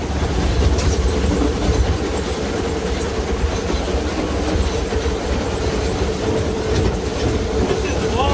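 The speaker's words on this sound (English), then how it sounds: "That's the maintenance run of the train." Silver Dollar City excursion train rolling on its maintenance run, a steady loud rumble of railcars with rhythmic clickety-clack of wheels on track and occasional faint wheel squeal, continuous throughout.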